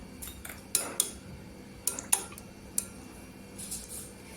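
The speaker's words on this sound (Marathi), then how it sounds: "तर इथं दही आहे ना थोडा ढवळून घ्यायचा" A spoon stirs homemade curd in a jar, giving several light metallic clinks and scrapes against the container, spaced irregularly and fairly close, with no speech.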